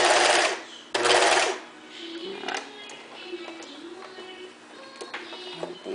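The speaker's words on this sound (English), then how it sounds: "I finish serging over past where I started" A serger runs over recycled wool sweater fabric in two short loud bursts of stitching, followed by quieter clicks and handling sounds.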